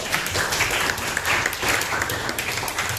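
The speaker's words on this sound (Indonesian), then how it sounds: "Aplaus untuk teman kalian" Applause from a classroom of students clapping for a classmate, a steady dense patter of many hands sustained for about three seconds at moderate level.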